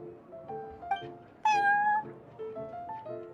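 Prince, a cat in Genshin Impact's Cat's Tail tavern, gives a series of clear meows, short chirps rising to one long loud drawn-out meow in the middle, then several softer mews.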